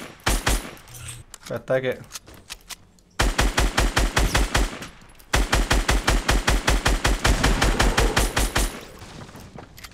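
Rapid bursts of gunfire in Fortnite play out as sharp, evenly spaced shots in long loud runs, separated by short pauses, with a voice talking briefly early on.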